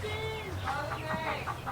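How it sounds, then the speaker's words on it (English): Chickens on a farm clucking in a short run of squawky calls, fairly close and loud, with no talk over them. "chicken boy gotta go say bye to the chickens"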